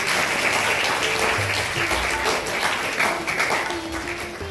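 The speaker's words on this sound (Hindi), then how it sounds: "bahut sari taaliyan" An audience claps steadily and warmly at a children's day prize ceremony at a fine arts academy in Amritsar, a dense burst of many hands that tapers slightly toward the end.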